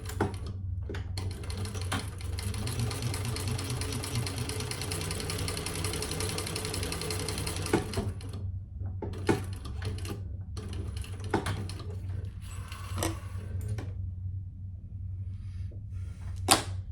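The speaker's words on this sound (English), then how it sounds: "So I'm just top stitching down both sides." A sewing machine top stitching 1/8 inch down both sides of a crossbody sling bag, running in a steady, fairly quiet whir for about eight seconds, then several short bursts with pauses between.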